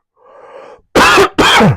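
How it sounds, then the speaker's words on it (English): Two loud, harsh coughs close by, one right after the other, preceded by a soft breathy vocal sound. "it's coughing time"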